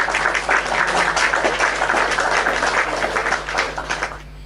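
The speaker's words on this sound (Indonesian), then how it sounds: "Tepuk tangan dulu kawan-kawan." Audience applause from a live online show, a steady wash of clapping that holds for about four seconds and then starts to thin out near the end.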